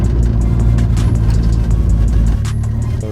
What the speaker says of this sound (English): So we're just taking a little drive around the neighborhood